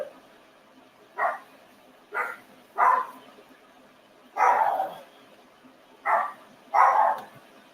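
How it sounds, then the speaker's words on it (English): A pet dog barking in a home, six separate barks in an uneven rhythm, close and fairly loud, with quiet room tone between them and no talking. "Hold on, that's my niece's dog."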